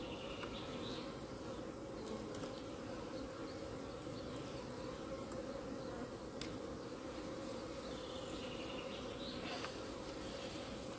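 Honeybees hum around an open hive during winter preparation, a dense steady buzzing drone that fills the whole stretch with occasional louder passes of individual bees close by.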